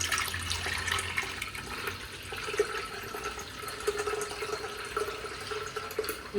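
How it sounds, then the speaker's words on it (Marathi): Sweet kharvas mixture of colostrum milk and jaggery being strained and poured into a container, a steady liquid pouring and trickling wash with faint drips, continuous and close throughout. "आता आपण याला गाळून डब्यामध्ये ओतणार आहोत"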